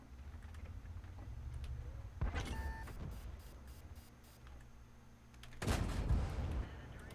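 Two sharp gunshots ring out in a first-person shooter game, one a few seconds after the other, each with a fading echo over quiet ambient background noise.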